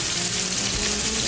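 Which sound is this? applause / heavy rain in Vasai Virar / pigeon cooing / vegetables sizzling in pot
vegetables sizzling in pot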